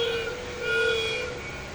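A train sounds a steady, continuous horn-like tone over a low rumble, in a short burst with no one speaking.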